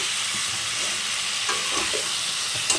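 Snake gourd goes into a sizzling spice paste in hot oil, making a loud, continuous sizzle with occasional stirring scrapes close by and no voices.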